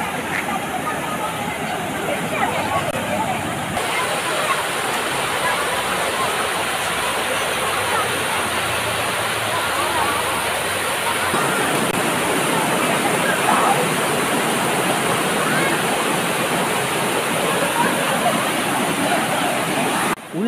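Water rushing steadily at Aaliyar Dam, a loud continuous broadband roar of flowing water that persists throughout, with faint crowd babble mixed underneath.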